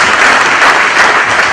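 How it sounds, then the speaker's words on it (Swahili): A church congregation at a service in Thika claps together in a dense, loud burst of applause lasting the whole short moment, with no talk over it. "Tupigie Yesu makofi mazuri sana"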